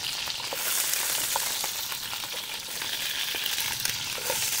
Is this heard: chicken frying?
yes